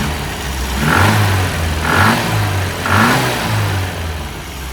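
A 1275 engine revs up three times in quick succession, each surge rough and uneven with a stuttering misfire, settling back to a lumpy idle between.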